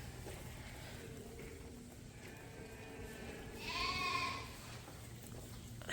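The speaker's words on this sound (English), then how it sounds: "it's a ewe lamb." Ewe lambs in a farm pen, bottle-raised, give a short cluster of bleats near the four-second mark, moderately loud over a steady low background hum, with no voices heard.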